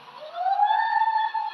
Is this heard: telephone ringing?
no